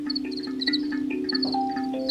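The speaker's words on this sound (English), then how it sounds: "So we just spent time with the crickets chirping" Crickets chirp at night in quick, high, repeated pulses, close and clear over a sustained low droning tone, with no voices.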